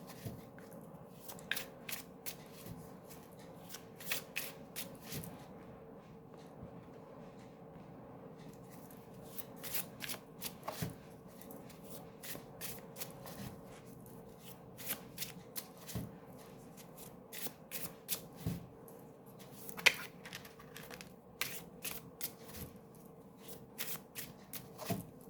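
A deck of tarot cards is shuffled by hand again and again, with crisp riffling bursts and soft shuffles repeating through a quiet room, no voices over them.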